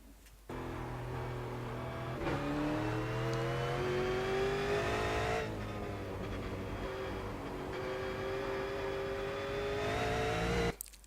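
A race car engine revs hard and climbs steadily through its range in one long pull on a track lap, with rising harmonic whine and brief dips at each gear change, loud and close throughout.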